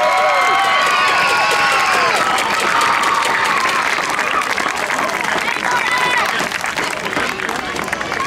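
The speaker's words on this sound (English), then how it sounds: "How about one more round of applause for Massachusetts and Connecticut?" Crowd applause and cheering after a state final baseball game between Massachusetts and Connecticut, a dense steady wash of clapping mixed with shouts and babble from a large gathering, loud and continuous throughout.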